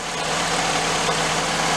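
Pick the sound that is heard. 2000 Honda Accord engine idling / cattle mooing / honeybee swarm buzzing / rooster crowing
2000 Honda Accord engine idling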